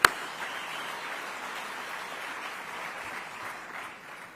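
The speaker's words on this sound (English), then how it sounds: "I think let's give them another round of applause." A summit audience claps together in a steady, close wash of hands that stays level before easing off at the very end.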